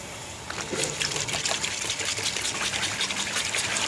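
Running water splashing steadily over an aglaonema plant cutting as it is rinsed, a continuous close trickle and gush with no talking.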